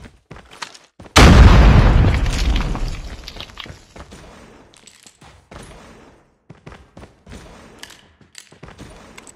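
A frag grenade blows up in a Call of Duty Mobile match with a sudden loud boom that rolls off over a couple of seconds, followed by faint scattered game sounds and clicks.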